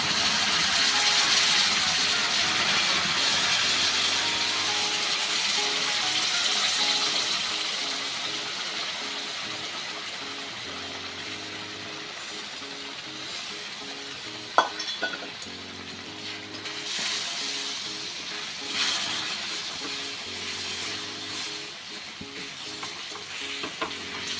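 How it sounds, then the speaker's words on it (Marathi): Jaggery water is poured into moong dal flour roasted in ghee, setting off a loud sizzle that bubbles steadily, with stirring scrapes and a sharp clank partway through. "आता आपण गुळाचं जे पाणी केलं होतं ते टाकून घेऊया"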